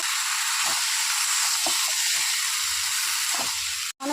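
Boiled Malabar spinach fries with spices in a pan, giving a close, steady sizzle and hiss broken by several scraping stir strokes, with no talking.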